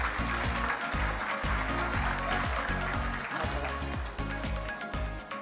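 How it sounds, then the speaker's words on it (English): An audience at a netball awards night applauds with a steady, broad wash of clapping over a pulsing music track. "A big round of applause for our assistant coach, Di Honey."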